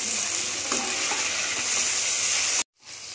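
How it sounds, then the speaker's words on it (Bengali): Whole dried chillies, cumin, a bay leaf, four cardamom pods and two cloves sizzle loudly in hot oil with a steady, close frying hiss that cuts out sharply near the end and then returns more quietly. "আমি ফোড়নের জন্য গোটা লঙ্কা, জিরে, তেজপাতা, 4টে এলাচ আর 2টো লবঙ্গ ফোড়নে দিয়ে দিলাম"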